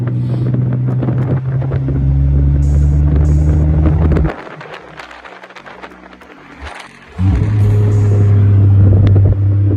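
A vehicle engine runs under load while driving, a loud steady drone that suddenly drops away for a few seconds as the throttle eases, then returns at full strength.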